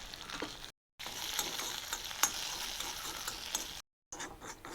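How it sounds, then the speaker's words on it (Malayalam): Mustard seeds, curry leaves and four dried red chillies crackle in hot oil for a restaurant-style sambar tempering, a close, dense sizzle with scattered pops and stirring clicks, broken by two short silent gaps. "ഒരു ടീസ്പൂൺ കടുക് ഇട്ട് കൊടുക്കുക അല്പം കറിവേപ്പില ഒരു നാല് വറ്റൽമുളക് ഇട്ട് കൊടുക്കുക"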